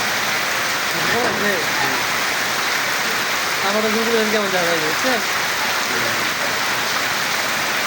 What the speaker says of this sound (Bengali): তুমুল বৃষ্টি শীতকালের শেষের দিকে এরকম বৃষ্টি